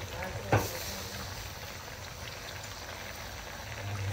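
Liquid bubbling steadily in a pot of catfish adobo with coconut milk, a constant soft hiss and simmer, with one brief clink near the start.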